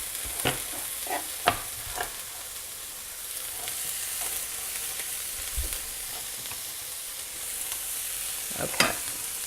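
Green pepper sizzles steadily in a frying pan while being stirred, with a constant frying hiss broken by occasional clinks and scrapes of the utensil against the pan. No one speaks.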